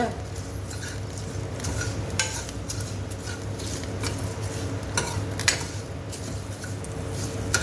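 Coriander seeds fry in hot oil while a spoon stirs them in a pan, giving a steady soft sizzle under scattered metallic scrapes and taps, close and with no talk.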